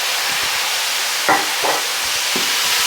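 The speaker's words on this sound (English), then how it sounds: "now what we're going to do is deglaze with just a little bit of white wine" White wine hits a hot pan of bratwurst, giving a steady loud sizzle and hiss close up, with a few scraping stirs against the pan bottom and no speech.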